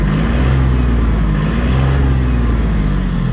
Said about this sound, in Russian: Трактор работает.